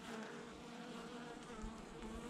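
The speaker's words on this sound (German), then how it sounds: "Und ein paar aggressive Bienen." Honey bees buzz around an opened beehive during a mid-February winter check, a dense, steady swarm hum close by with individual bees droning past, heard without speech.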